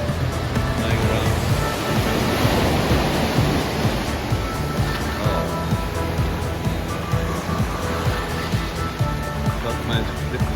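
Steady wash of waves and surf at a quieter beach, Hiriketiya in southern Sri Lanka, a continuous broad roar with gentle swells, while people talk nearby.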